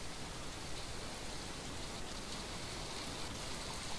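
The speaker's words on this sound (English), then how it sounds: "Oh, there's some rain." Steady, even rain hisses without a break in the video game From The Depths, a dense wash of falling drops with no voices.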